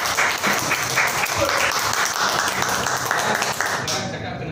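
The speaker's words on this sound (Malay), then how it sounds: "satu tepukan lagi sekali kepada anda semua." Loud, sustained applause from an audience at a Malay-language motivational talk, a dense wash of clapping that holds steady throughout and then fades away at the very end.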